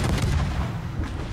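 Naval gunfire in the warship game World of Warships, heard as a heavy, dense, booming artillery blast that stays loud across the whole short moment.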